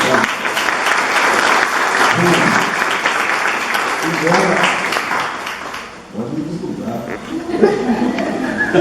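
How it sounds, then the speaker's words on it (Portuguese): An audience at a Mother's Day motivational talk breaks into sustained clapping that fades after several seconds, followed by scattered chuckles and voices as the applause thins. "Vamos dar uma salva de palmas,"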